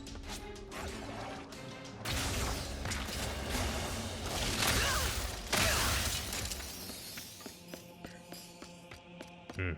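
Bolts being collected in Ratchet & Clank: Rift Apart, a dense, loud game soundscape of metallic clatter, crashes and whooshing effects running continuously, with rattling mechanical pickups near the end.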